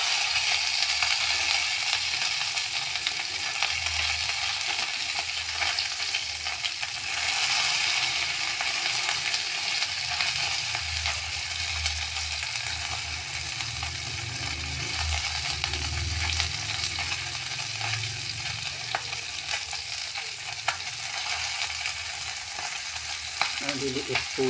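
Small galunggong (round scad) fish fry in a pan with a dense, continuous sizzle and crackle, loud and close, with faint clinks of utensils and no talk.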